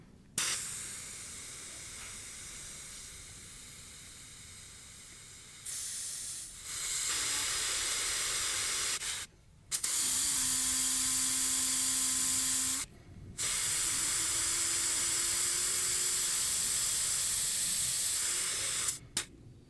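Air hisses steadily from a Nissan Xterra tire being let down by hand for desert driving, in several long bursts separated by brief pauses, loud and close with no talking.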